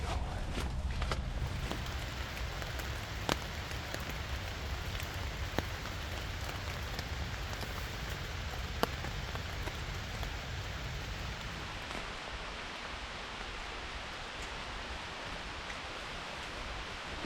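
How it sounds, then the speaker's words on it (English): Steady rain patters close overhead on a taut surface, with occasional heavier drops landing amid the constant hiss. "Just enjoying the sound of the rain here in the hammock."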